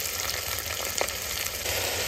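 Whole black peppercorns and bay leaves roasting in a hot pan give a steady, soft sizzle and crackle, close and even throughout, with a faint high whine running above it.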